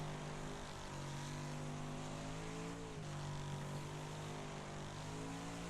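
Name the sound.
race car engine in the video game Wreckfest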